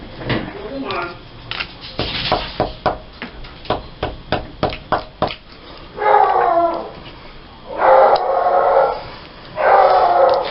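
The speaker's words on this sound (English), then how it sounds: "My brother's letting the dog out." A dog barks in a rapid run of sharp, repeated yaps, then breaks into three long, wavering howls, fairly close and loud indoors.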